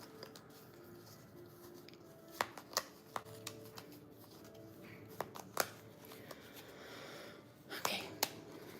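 A deck of cards is shuffled in a few short bursts of sharp riffling clicks and flicks, close and fairly quiet, with soft breathy room sound between them.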